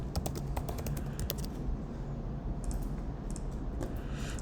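Rapid typing on a computer keyboard, a steady run of light clicking keystrokes at close range over a low background hum, continuing throughout.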